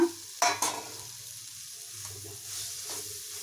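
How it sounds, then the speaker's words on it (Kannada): A spoon stirs pepper rice with salt in a pan, with a few sharp scrapes and knocks over a soft, steady sizzle. "ಎಲ್ಲ ಚೆನ್ನಾಗಿ ಮಿಕ್ಸ್ ಮಾಡ್ಕೊಳ್ಳೋಣ"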